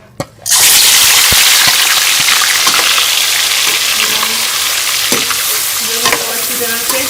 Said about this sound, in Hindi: अब इसी घी के अंदर ये मैरिनेट किया हुआ चिकन मैं डाल दूंगी